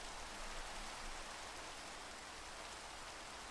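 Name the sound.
rain in the video game Minecraft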